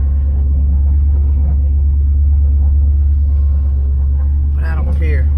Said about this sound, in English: we are driving the project car, the Calypso clone